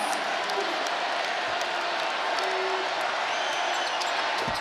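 A basketball arena crowd at a Michigan State at Illinois game roaring and cheering at a free throw, a dense, sustained wall of noise with no break.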